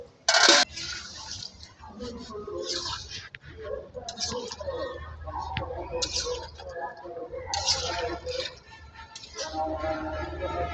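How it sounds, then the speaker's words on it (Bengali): Water poured into a pan of sautéed meat splashes and bubbles in uneven bursts over about ten seconds, with a sharp hiss at the start and quieter gurgling, clattering stretches between. "এখন আমি জল দিয়ে নিব"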